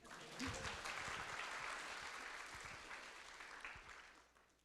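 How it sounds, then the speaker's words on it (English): Faint, distant audience applause at the SIGBOVIK 2026 livestream, a steady wash of clapping that swells quickly, holds, then tapers off over a few seconds. "Everyone can give you a round of applause"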